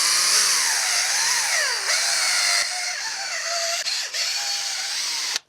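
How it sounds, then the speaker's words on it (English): A power drill set to 1200 RPM whines steadily at high speed while sanding a cloudy headlight lens, its pitch dipping and rising as load changes, loud and close, then cutting off abruptly. "set your drill to 1200 RPMs. It actually says that. Start sanding evenly in a back and forth motion."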